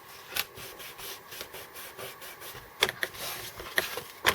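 A burnishing tool rubs along a paper fold in short, dry scraping strokes, close and fairly quiet, with a few sharper, louder rubs near the end.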